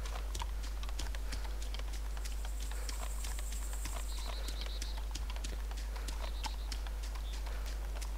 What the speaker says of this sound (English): just trotting through the countryside